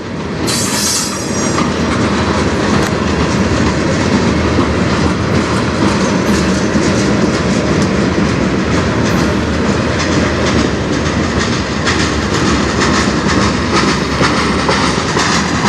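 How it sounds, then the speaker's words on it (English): A regular daily freight train on the Strathroy Subdivision rolls past close by, loud and continuous, with rhythmic clickety-clack from wheels on rail joints and occasional high wheel squeal over a steady rumble. "The regular daily train."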